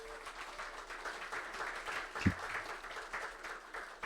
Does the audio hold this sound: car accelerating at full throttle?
no